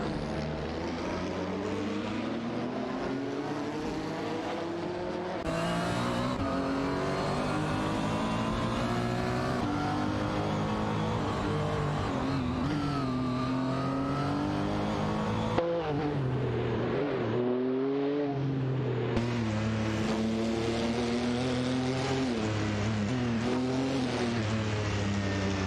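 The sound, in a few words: race cars driving in an AI racing video game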